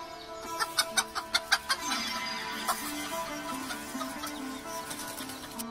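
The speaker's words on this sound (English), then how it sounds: "hen." A hen clucks in a short run of sharp, evenly spaced clucks, then her voice trails into a lower, drawn-out warble over a steady background hum, with no talking.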